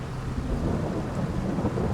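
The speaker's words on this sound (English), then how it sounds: "What time is the rain supposed to stop, though?" Steady rain in the Farming Simulator 22 video game, with a low rumbling roar of thunder under a dense, even wash of rainfall.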